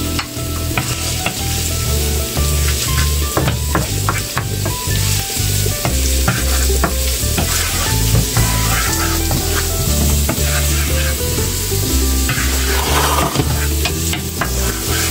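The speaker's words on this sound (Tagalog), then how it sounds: "Magigisa tayo ngayon ng bawang." Garlic sautéing in hot oil in a pot for green pea soup, giving a loud, continuous sizzle close up with clinks of stirring scattered over it.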